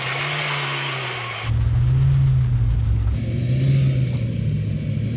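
A Ford truck engine, apparently the F-150 Raptor, drones and revs under heavy load during a tug of war, its low steady growl surging louder partway through and holding strong and close, with no talk.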